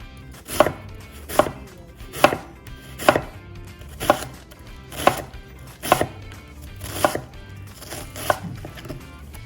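A knife chops jalapeños on a cutting board in nine crisp, evenly spaced strokes, each a sharp close knock against the board, with no talking.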